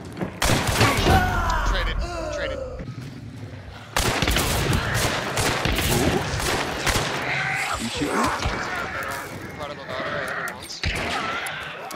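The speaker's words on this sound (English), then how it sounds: "Where are they shooting from?" Rapid gunshots and bursts of gunfire crack in close succession during a Hunt: Showdown firefight, with a loud jump in intensity partway through and players talking excitedly over the shooting.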